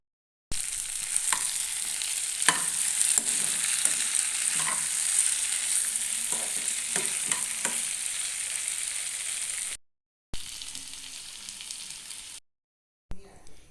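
Chicken sizzles and fries in a pan in a home kitchen in Assam, a continuous loud crackle broken by stirring scrapes, then cutting out briefly before resuming.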